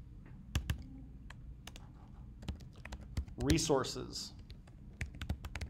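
Typing code on a computer keyboard: faint, irregular key clicks scattered throughout, with a brief spoken word in the middle.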